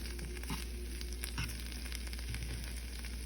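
Turkey slider patties sizzle and crackle steadily in a hot pan, a soft constant hiss with scattered pops, close by and with no talking.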